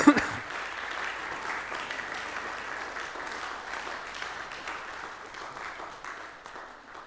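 A church congregation at a Sunday service breaks into applause, a loud burst of clapping that carries on steadily and slowly thins out.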